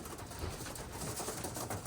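Pigeons from a 2024 young-bird group, kept in a loft alongside old-bird team cocks, murmur a soft, continuous cooing at moderate distance with no voices over it.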